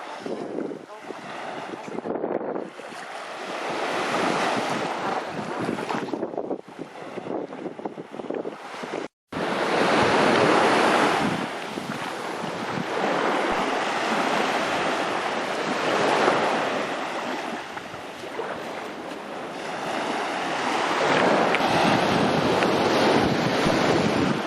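Sea waves washing onto a beach at Skiathos, Greece, heard up close by someone paddling in the shallows, with continuous surf and wind buffeting the microphone.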